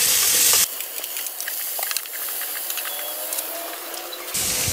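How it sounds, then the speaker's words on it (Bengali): Five-spice, a few bay leaves and chopped onion drop into hot oil left from frying fish, bursting into a loud, close sizzle that settles to a steady crackling hiss, then swells again, with no talking. "এখন এই ভেজে রাখা অবশিষ্ট তেলগুলোর মধ্যে আমি দিয়ে দিচ্ছি পাঁচফোড়ন, দিয়ে দিচ্ছি তেজপাতা কয়েকটা, দিয়ে দিচ্ছি পেঁয়াজ কুচি"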